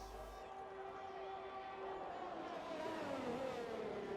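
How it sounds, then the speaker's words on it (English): F1 2021 race car engine on a virtual Baku track, a steady droning whine that rises in pitch as the car accelerates, continuous and fairly distant. "there is another car on track I've just heard"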